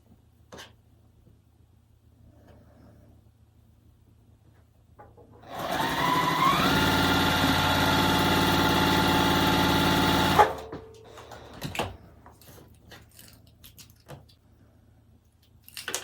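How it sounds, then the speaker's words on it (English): A domestic sewing machine chain-sews quilt pieces for a branch quilt pattern in one steady, loud run of about five seconds. It stops abruptly, and faint handling clicks follow in a quiet room. "I'm going to sew that on, and we're gonna do that chain"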